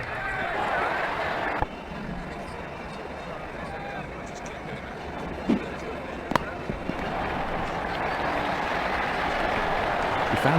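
A stadium crowd cheers and applauds in Ashes Cricket 2009 during a Barbados Royals versus St Kitts match. The crowd roars as a steady wash, with a commentator talking over it.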